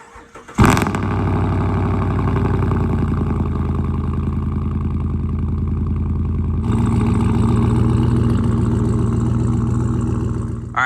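A 6.2-litre V8 in an LTZ truck cold-starts with a sharp crank and catch, then settles into a loud, steady high idle that rises slightly in the second half. It is close by, with no talking.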